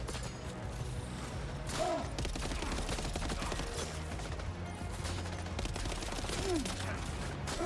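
Sustained gunfire from a Death Stranding 2 game battle, a dense fusillade of rapid shots with occasional heavier bursts running continuously and loud throughout, with no talk over it.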